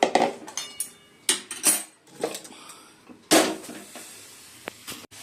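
A pot of moong dal with diced papaya lifted off the stove, a run of sharp metallic clanks and clinks of pot, lid and utensils, loud and close, in uneven bursts with no speech.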